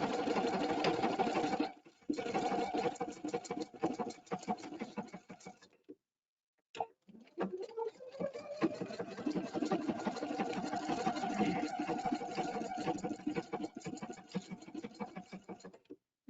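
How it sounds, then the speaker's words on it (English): An EPIC 2 sewing machine stitches laser pictogram stitches, its rapid needle whir running steadily, pausing briefly near the middle, then resuming with a rising motor tone before settling into even stitching. "So it's going to stitch the 5 straight stitches and then stitch that half circle again."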